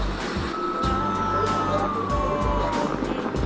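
Emergency vehicle sirens wail near a plane crash site as ambulances evacuate survivors, a steady loud drone with rising and falling siren tones and rumbling vehicle noise throughout.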